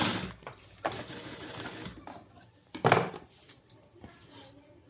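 A sewing machine stitches a blouse lining in short bursts, its quick needle whirr starting and stopping several times, close and moderately loud with light handling clatter between runs.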